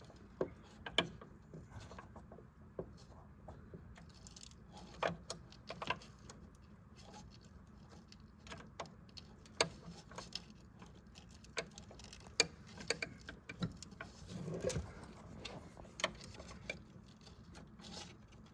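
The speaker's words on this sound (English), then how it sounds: "we got to run that bolt back in just a little bit so we get our wrench out of there" A ratcheting box-end wrench clicks irregularly as it turns a bolt while a thermostat is replaced on a Chevy Duramax, with sharp isolated ratchet ticks and short clusters over quiet shop background.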